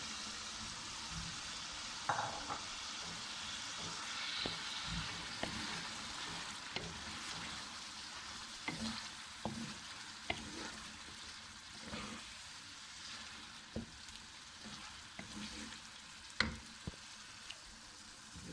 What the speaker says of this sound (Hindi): अब इसमें छोले डालते हैं